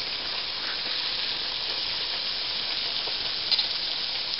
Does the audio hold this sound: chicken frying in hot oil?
yes